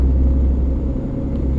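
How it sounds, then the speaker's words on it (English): Low, steady rumble of a Gardner diesel engine in a British truck from On The Road Truck Simulator, a close droning idle-to-cruise tone holding even for the whole short stretch, with no voices. "I mean, I hear Gardner engines."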